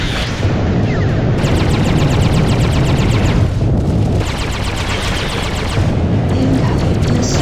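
Incoming missiles strike in the space combat game Freelancer, with loud booming blasts and rapid crackling bursts that stack into a dense, continuous barrage. A short gap comes midway before the pounding resumes.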